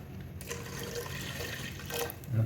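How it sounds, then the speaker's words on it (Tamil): Water pouring into a pot of washed masoor lentils for dal, a short gurgling, splashing stream close by, rising in loudness toward the end. "தண்ணி ஊற்றிக்கலாம்."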